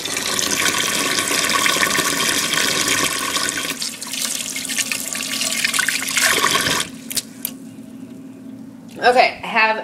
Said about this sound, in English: And then of course we have to wash our hands.